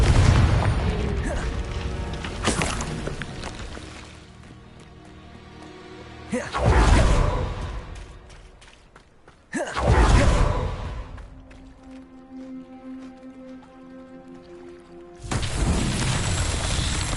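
Hogwarts Legacy's Confringo blasting spell sets off several loud booming explosions, each a sharp burst followed by a fading rumble, spaced a few seconds apart with quieter game ambience between.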